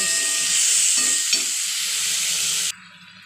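Pumpkin pieces sauté with spices in a hot pan, giving a steady bright sizzle with soft stirring scrapes, close and loud, then cutting off abruptly near the end.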